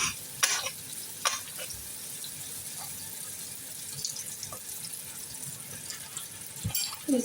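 A small piece of butter melts in a pan for white sauce, a soft quiet sizzle with a few sharp utensil clinks and scrapes against the pan.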